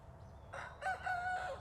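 A rooster crows in short raspy, deep bursts, close and fairly loud over steady low background noise, with a second crow-like call trailing into it, heard alone without talk.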